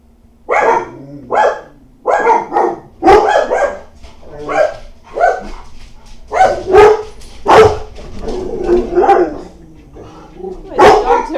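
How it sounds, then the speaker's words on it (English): Several dogs bark repeatedly at a house, loud and close, in uneven bursts of sharp barks with some yips over roughly eleven seconds, a voice faintly mixed in. "the dogs are barking."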